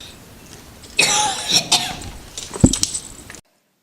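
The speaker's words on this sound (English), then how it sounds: "I can't stop coughing" A person coughs several times inside Woodchester Mansion in quick, harsh bursts, close and fairly loud, ending abruptly in silence.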